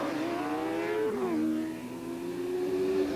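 Racing motorcycles pull away on the Nelson Ledges raceway during a 1993 24-hour endurance race, their engines whining upward in pitch, dipping briefly, then climbing again, a steady nearby roar with no voices.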